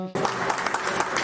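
Dense applause from an audience at a Jain wedding celebration bursts in after a brief moment of quiet and holds steady and close to the end.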